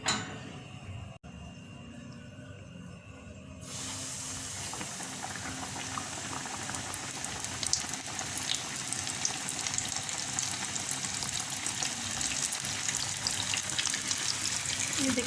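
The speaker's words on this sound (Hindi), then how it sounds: "ये देखें 2-2 पीसेस करके फ्राई करूँगी मैं।" Chicken pieces fry two at a time in medium-hot oil, giving a steady, loud crackling sizzle that starts sharply and keeps up without a break, with no talking over it.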